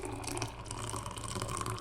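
Homemade grape juice with lemon being poured into a glass, a continuous trickling, splashing liquid sound heard up close and alone for under two seconds.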